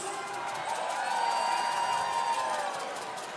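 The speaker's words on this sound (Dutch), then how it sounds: "Ik geef deze mooie dames dus een geweldig applaus." Crowd applause and cheering at a carnival (vastelaovend) performance by a women's group, a dense steady wash of clapping with a held tone over it, live and fairly loud throughout.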